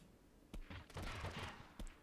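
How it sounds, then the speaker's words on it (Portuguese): Gunfire in the Totally Accurate Battlegrounds video game, a few sharp distant shots and short bursts over a low, noisy background. "tô vendo muito tiro, mano"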